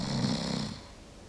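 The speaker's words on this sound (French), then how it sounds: "Il s'endormit et vint à ronfler effroyablement." An ogre snores dreadfully while asleep on a rock in a fairy tale: one long, loud, rasping snore that fades out after under a second, heard alone.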